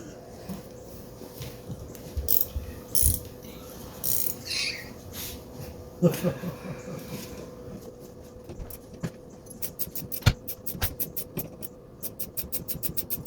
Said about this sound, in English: a ratcheting box end wrench is a wonderful thing